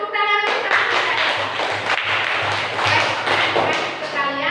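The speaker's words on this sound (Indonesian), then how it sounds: "Tepuk tangan untuk" A classroom of people claps steadily for several seconds, a dense, loud patter of hands filling the room, with faint voices underneath.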